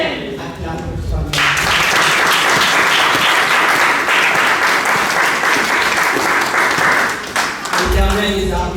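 A church congregation applauding during a worship service, sustained dense clapping from a large crowd that swells in and holds for several seconds, loud and close, with voices before and after.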